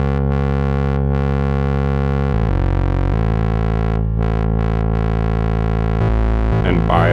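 A buzzing, distorted tone from a Behringer Chaos module's CV outputs drones steadily, shifting pitch and timbre in a few abrupt steps, loud and sustained throughout.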